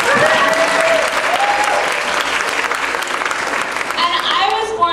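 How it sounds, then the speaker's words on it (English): Loud, dense audience applause fills the whole stretch at close range, with a voice briefly audible over the clapping near the end. "Let's give them a round of applause."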